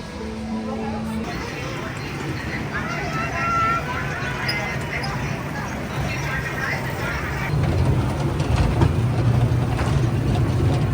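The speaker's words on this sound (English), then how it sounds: "Tractor train was a big hit." The Legoland Florida tractor train ride rumbles and clatters along with mechanical ratcheting, a low engine drone that grows louder toward the end, and crowd chatter in the background.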